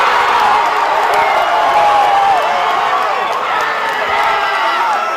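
A rugby league grand final crowd roaring on its feet at Orange Cyms versus Oberon Tigers, a loud sustained wash of cheering and whistles with a commentator's voice riding over it.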